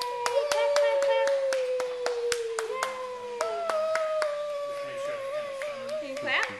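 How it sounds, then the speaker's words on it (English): A small child claps their hands in a John Deere shop, about a dozen sharp, fairly regular claps close by, over a sustained wavering howl-like tone. "Can you clap? Say yay! Clap, clap, clap."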